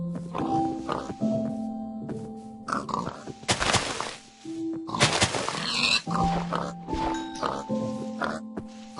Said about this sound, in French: il y a max de cochons ici, dans cette zone